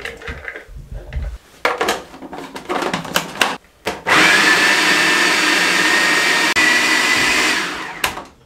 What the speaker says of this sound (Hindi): चॉपर में डालेंगे इसको